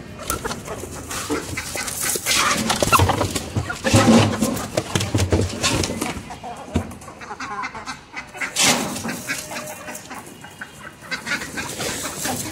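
Hungry hens and other farmyard fowl on a pet farm at feeding time, a loud overlapping din of honking, clucking calls that swells and dips throughout.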